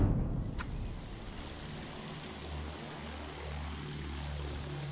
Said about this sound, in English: Oh, there's a plane.